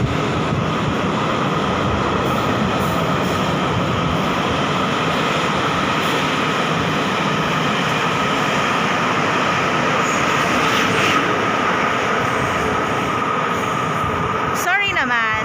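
A passenger train rumbles into a station and brakes with a loud, continuous roar and a brief wheel squeal near the end, with people talking over it.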